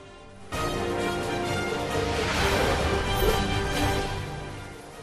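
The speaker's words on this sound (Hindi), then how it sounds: "असम में मूसलाधार बारिश से सैलाब का तांडव फिर से शुरू हो गया है।" Torrential monsoon rain pours down during flooding in Assam, a dense, steady roar that starts abruptly and holds loud and unbroken throughout.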